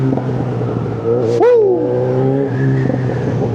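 A Yamaha XJ6 motorcycle engine rises in a quick, sharp rev and then settles back to a steady idle, close and loud, with a short shout over it.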